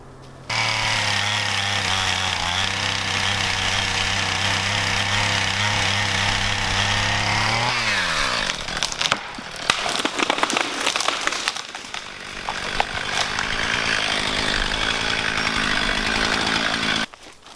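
A chainsaw runs loud and steady, then bogs and revs unevenly as it bites into a tree, with crackling and snapping before resuming its high buzz.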